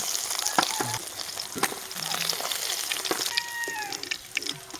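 Oil sizzles and crackles steadily as pangas fish fries, with occasional clinks and scrapes of a utensil stirring in the pan; no talking.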